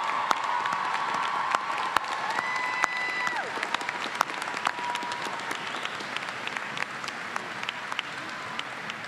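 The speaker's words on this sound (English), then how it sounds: "I would like you to stay standing and applaud all of those who supported you to this day." Sustained applause from a large commencement audience, the standing graduating class at an undergraduate university ceremony clapping steadily throughout, with a faint crowd murmur beneath.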